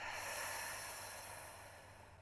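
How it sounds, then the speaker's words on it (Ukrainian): Steady breathing in and out during a pilates core-strengthening and posture exercise, a soft continuous airy hiss that swells early and slowly fades over a couple of seconds, close and quiet with no talking. "І ще раз вдих і видих."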